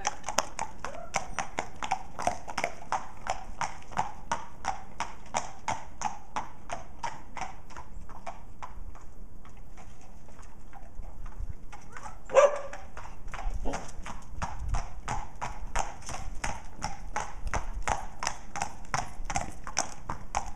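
A horse trots on an uneven yard, its hooves clip-clopping in a steady, evenly spaced rhythm close by, with a brief sharp knock partway through and faint background voices.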